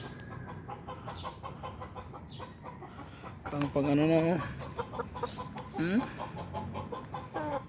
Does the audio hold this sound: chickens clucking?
yes